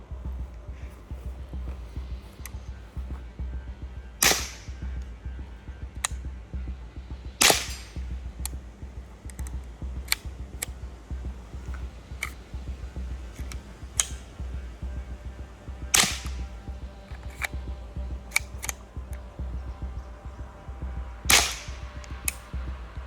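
Five sharp, muffled shots from a suppressed FN 502 Tactical pistol firing Winchester 45-grain Super Suppressed rounds, spaced a few seconds apart over a steady low hum, each a quick crack with little echo.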